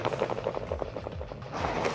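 Rapid pistol and laser gunfire in a first-person video game, a fairly quiet, steady stream of repeated shots with a faint voice in the background.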